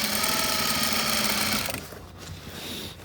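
A sewing machine stitches upholstery fabric for a sofa, its steady, loud motor hum running continuously for about a second and a half before cutting out, leaving quieter room noise.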